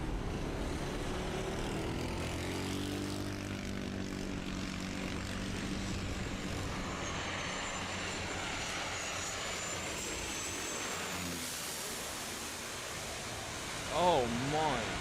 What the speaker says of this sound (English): This plane has to nosedive for the runway to be able to land